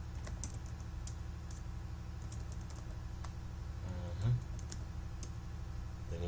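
Computer keyboard typing while a name is entered into a setup form, quick irregular clicks of keys at close range over a faint background hum, with no talking.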